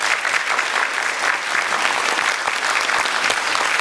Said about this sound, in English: so everybody give him a big applause.